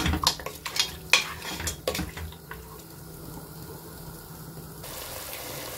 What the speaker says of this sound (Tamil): சேர்த்துட்டு இந்த நெய்யிலேயே வந்து நம்ம 1-5 நிமிஷம் வதக்கிக்கலாம்.